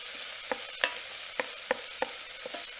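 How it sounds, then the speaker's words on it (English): Onions sizzle steadily in the bottom of an Instant Pot as a spoon pushes them to one side, a bright continuous hiss broken by several sharp scraping clicks. "So just kind of push the onions over to one side."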